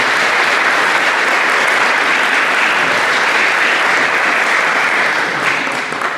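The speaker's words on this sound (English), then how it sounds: "You boys need to give her a round of applause for all the learning she did this year" Loud, sustained applause at a high school football banquet for the team trainer, a thick roar of many hands clapping nearby that stays even and unbroken for the whole stretch.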